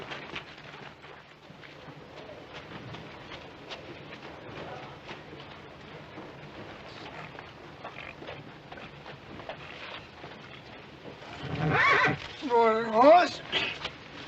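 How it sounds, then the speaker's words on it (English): A horse in a western TV episode lets out one loud, wavering whinny near the end, after a long stretch of low background murmur and voices. "Horse."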